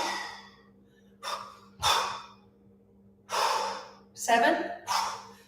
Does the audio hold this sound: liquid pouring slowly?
no